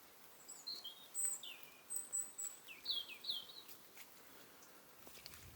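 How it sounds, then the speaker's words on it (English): Faint, high bird chirps and short song phrases ring out over a soft, steady outdoor hiss in beech woods, a few birds calling on and off. "If you listen, you can hear the birds."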